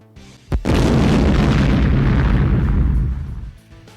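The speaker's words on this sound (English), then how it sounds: "A thunderous explosion resonating deep in my gut could be heard from not too far away." A huge thunderous explosion in a visual novel game booms in after a sharp crack, roaring deep and loud for about three seconds before slowly fading.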